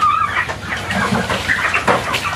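A flock of farm chickens clucks and murmurs nearby, several birds overlapping in a steady busy chorus with a few sharper calls.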